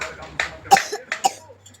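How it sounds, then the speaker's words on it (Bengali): A person with a bad cough coughs several times in short, close bursts indoors at home, the coughs loud and near with a little voice in between. "খুব কাশি হয়েছে"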